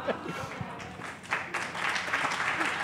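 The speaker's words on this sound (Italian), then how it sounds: "Un applauso spontaneo." Spontaneous applause from a podcast audience, a continuous smattering of clapping that swells toward the end, with voices mixed in.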